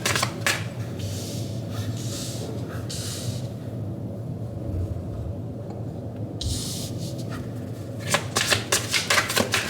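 Tarot cards shuffled by hand in close, continuous riffling bursts with brief pauses, and no talk.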